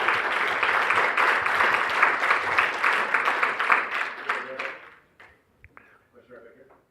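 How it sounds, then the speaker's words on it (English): Applause from an audience at the close of a business talk on scaling a company, steady and dense for about five seconds, then thinning out into a few scattered claps near the end. "maybe some clapping"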